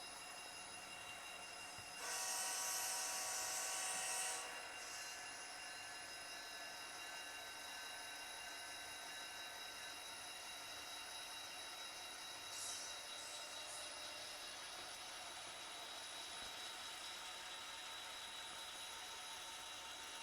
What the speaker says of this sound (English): Got sound in the NS Heritage unit.